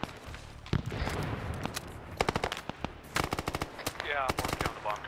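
An RPD machine gun fires in bursts in the Vietnam War shooter SOG, with rapid cracking rounds that come close and loud in several clusters, mixed with other gunfire.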